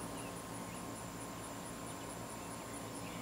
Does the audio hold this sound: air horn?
no